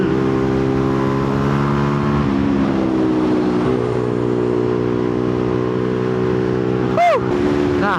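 A rare motorbike runs at full throttle along back roads, its engine droning loud and steady with a slight shift in pitch, and a sharp whoosh near the end as something passes close.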